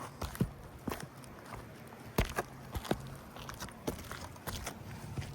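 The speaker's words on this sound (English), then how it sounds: "I'm hitting it with this pry bar, trying my best to be gentle, and huge chunks" Scattered sharp cracks and scraping crunches as a pry bar breaks up brittle, bonded roof shingles, faint and irregular, with no talking.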